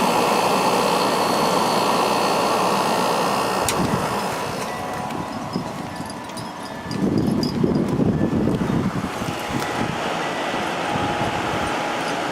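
A White Westinghouse 8,000 BTU window air conditioner runs on low cool, a steady hum and fan whoosh that dips briefly before the compressor kicks in and the running noise grows louder and rougher.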